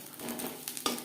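Cumin seeds sizzle in a little hot oil as tempering for a katla fish head and bottle gourd ghonto, a soft continuous crackle with a few faint pops and one short stirring scrape.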